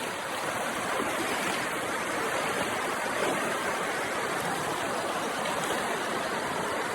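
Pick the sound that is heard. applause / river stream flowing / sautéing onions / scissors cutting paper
river stream flowing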